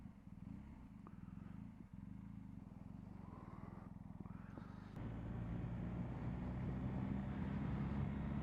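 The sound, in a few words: BMW R 1250 GS Adventure motorcycle engine starting up and running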